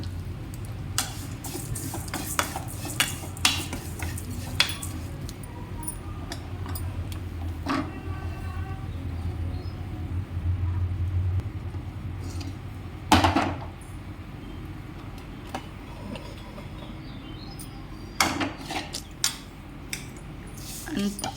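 Vermicelli stir-fried in a pan gives sparse scrapes and metallic clinks of a spoon against cookware, with a faint low hum and a few louder knocks, close by and otherwise fairly quiet.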